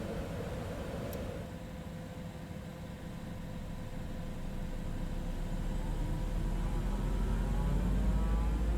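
Right jet engine of a Citation X spooling up during startup in a flight simulator, a steady broadband roar and whine that builds gradually louder over several seconds with no talking.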